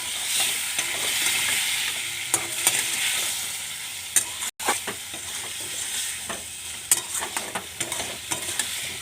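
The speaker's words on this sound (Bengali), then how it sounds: "এবার জলটা দিয়ে একটু নাড়ি" Egg curry with added water is stirred in a frying pan over a steady sizzle, with a spoon scraping and clinking against the pan at intervals, close and fairly loud.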